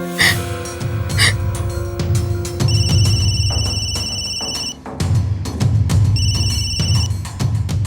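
A telephone rings twice in steady electronic trill bursts, loud and close, with rustling movement and soft breathy sounds around it while a call is placed.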